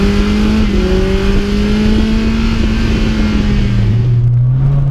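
A BMW M3 E30 engine pulls hard under full throttle, loud and close, its steady rising drone climbing through the revs and then dropping briefly with a gear change before rising again.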